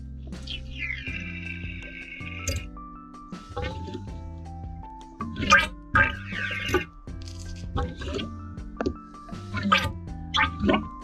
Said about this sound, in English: You'll be able to hear the oil inside gurgling about as it kind of gets the air bubbles in there.